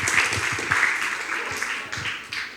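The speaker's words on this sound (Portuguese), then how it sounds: "Palmas para ele" Applause from a church congregation during a sermon, a continuous wash of hand clapping lasting a couple of seconds, moderately loud and fairly close.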